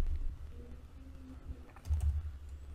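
Typing CSS code on a computer keyboard, a quiet run of soft key clicks that cluster into a brief louder burst near the end, with no talking.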